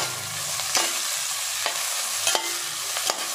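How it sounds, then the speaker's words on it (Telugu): Tomatoes and cashews fry in a pan with a steady, close sizzle, broken by a few stirring scrapes of a utensil; no voices are heard. "సో టమాటాలు కూడా ఫ్రై అవుతున్నాయి."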